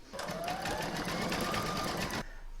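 An embroidery machine stitching owl talons in yellow gold thread for a hair barrette, running as a fast steady whir with rapid needle ticks for about two seconds before stopping abruptly.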